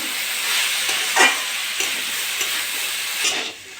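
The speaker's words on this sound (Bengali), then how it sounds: "এটা ভালো করে ভেজে নেবো" Mixed vegetables, including kohlrabi and potato with salt and turmeric, fry in a pan under a steady hiss, with a few louder scrapes and clinks as they are stirred, before the sizzle drops off near the end.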